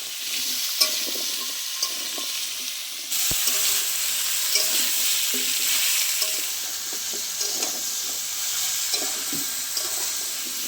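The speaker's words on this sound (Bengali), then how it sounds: "আলু আর কুমড়ো একসাথে ভালো করে একটু ভেজে নেব।" Potato and pumpkin frying together in a pan, a steady close sizzle with occasional stirring scrapes and clinks.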